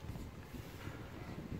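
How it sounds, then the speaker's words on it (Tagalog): Steady, cold wind buffets the microphone in a low, rumbling rush on an agro-tourism farm, constant and close throughout. "Mahangin, malamig."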